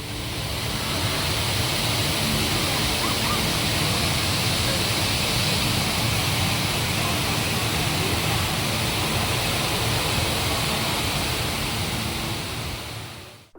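Huge indoor waterfall inside the Cloud Forest botanical dome at Gardens by the Bay, Singapore, a loud, steady broadband roar of falling water that holds constant throughout and sounds close.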